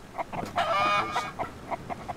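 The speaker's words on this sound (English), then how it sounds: "So, 4 chickens in here," Several chickens cluck in a chicken coop in the survival video game Mist Survival, with short repeated clucks and one longer drawn-out call, faint, with no talk.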